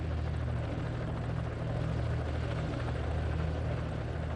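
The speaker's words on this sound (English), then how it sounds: "Then, a helicopter arrives." A rescue helicopter hovers nearby over freezing water, its rotor producing a steady, loud thumping drone with a constant low pulse throughout.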